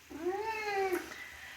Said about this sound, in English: She just realized that I was inside a room with a closed door, and she's not happy about it.